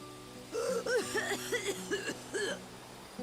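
A character coughing in Lightning Returns: Final Fantasy XIII, a close, fairly quiet run of about six short, voiced, hacking coughs in quick succession over faint background music.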